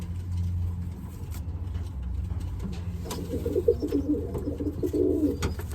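Racing pigeons coo nearby in soft, repeated throaty rolls, with a low hum of background noise and a faint passing car.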